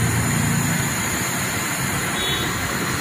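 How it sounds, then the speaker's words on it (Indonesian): A Jetbus 2 HD coach engine with air suspension runs smoothly nearby, a steady even rumble with no breaks. "Suara mesin masih mulus ya."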